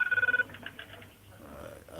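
A telephone rings in a quick warbling burst at the start, loud and close, then fades into background noise and faint talk.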